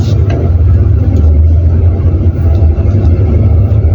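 A car engine accelerates gently during a driving lesson, the driver easing on the gas in first gear; a steady low, close rumble runs throughout with a slight rise in revs.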